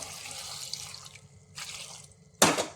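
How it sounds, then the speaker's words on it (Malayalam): Water poured into a cooker holding washed peanuts, a steady splashing trickle that fades, then a short burst and a final louder gush near the end. "ഇനി നമുക്കിതിലേക്ക് വേവാൻ പാകത്തിന് വെള്ളം ഒഴിച്ചു കൊടുക്കാം."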